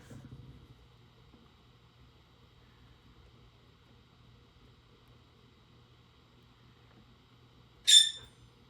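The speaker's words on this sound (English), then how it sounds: "that's my bird in the back if you heard that" A pet bird gives one short, sharp chirp partway through, fairly clear above a quiet room with a low steady hum and a bit of faint noise at the start.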